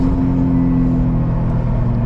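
A 2018 Subaru WRX STI engine pulls hard under turbo boost, a loud, close, steady droning rumble with a strong tonal hum heard from inside the car.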